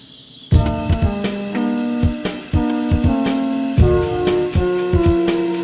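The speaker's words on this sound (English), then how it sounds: "And I recreated that with the chorus of this thing here that I'm using." Electric piano run through a chorus effect that widens the stereo image, recreating part of a track: a loud, steady run of chords and repeated notes with shimmering, wavering sustain and sharp attacks throughout.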